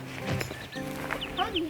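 Backyard chickens cluck in short, close bursts mixed with higher chirps, a few quick calls overlapping against a quiet background.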